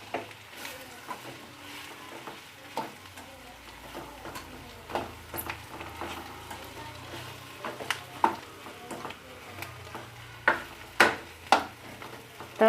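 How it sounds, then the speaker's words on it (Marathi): Spoon stirring eggplant curry with chopped coriander in a pan, a soft steady sizzle with repeated scraping taps of the spoon against the pan, close and without talk. "यालाही व्यवस्थित आता मिक्स करून घेऊया।"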